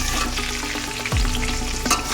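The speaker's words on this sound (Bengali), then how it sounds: "এই দেখো আলুগুলো এইভাবে আমি ভেজে নিচ্ছি।" Potatoes and tomato frying in a pan for a home-style potato and katla fish dish, a continuous close sizzle with a brief scrape of stirring partway through.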